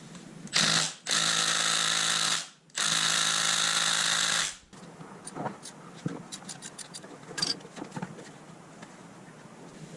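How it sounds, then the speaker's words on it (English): A power tool spins the lower pinch bolts off a TTR 125 motorcycle fork in three loud whirring bursts, followed by quieter clicks and metallic scraping. "So we'll take these bottom pinch bolts off and we'll drop one fork at a time."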